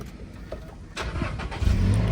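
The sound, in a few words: car engine starting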